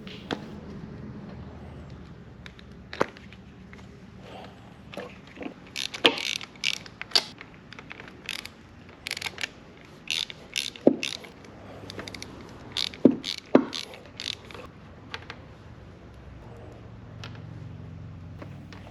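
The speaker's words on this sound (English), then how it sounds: "First thing we're going to do is remove the spark plugs to do a compression test." Spark plugs are unscrewed from a Mercury 50hp outboard engine, producing soft scattered ratchet clicks, metallic taps and small clatters over a quiet background, close by and fairly faint.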